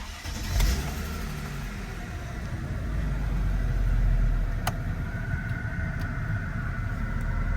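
A Mercedes-Benz W210 car engine turns over and catches, then settles into a steady idle that swells slightly before evening out, close by with no talking.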